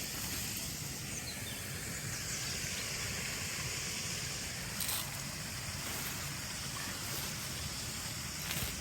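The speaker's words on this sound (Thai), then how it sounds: "จะได้ยินเสียงน้ำไหลตลอด" Steady broadband rushing of water flowing near a waterfall, continuous and fairly loud throughout with no pauses and no voices heard.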